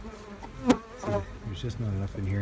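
Honey bees buzz in a small, weakly populated hive box, a close, continuous hum with a sharp tap, while a person speaks briefly.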